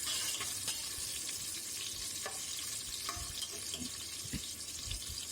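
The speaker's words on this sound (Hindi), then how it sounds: "अब इसको जो है वो मैं गोल्डन होने तक फ्राई करूँगी।" Chopped onion fries until golden in a pan for a beef pulao, giving a steady close sizzle with occasional soft clinks of stirring.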